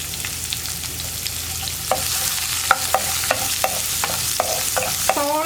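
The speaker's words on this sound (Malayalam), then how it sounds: "സവോള ഇനി നന്നായിട്ടൊന്ന് വഴറ്റിയെടുക്കണം." Chopped onions sauté with dried chilli and ginger in a hot pan for a lentil and drumstick-leaf curry, with a steady loud sizzle and spaced clinks and scrapes of a spoon stirring.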